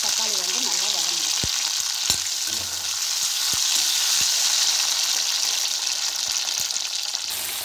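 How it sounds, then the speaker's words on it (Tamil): Tomatoes fry in a pan for mint-tomato chutney, giving a continuous bright sizzle close by, punctuated by several sharp taps and clicks of a stirring utensil against the pan. "இப்போ இதுலேயே 2 தக்காளி சேர்த்துக்கோங்க. தக்காளி வந்து நல்லா வதங்கணும்."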